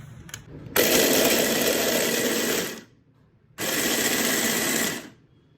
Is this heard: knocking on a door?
no